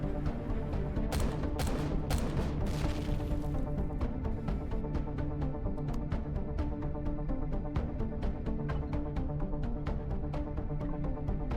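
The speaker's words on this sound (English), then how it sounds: "I do hear a turret currently shooting at my ship" A turret in the video game Empyrion fires at a ship, rapid gunfire rattling in steady repeated bursts, sharp cracks over a dense droning mix of game sound.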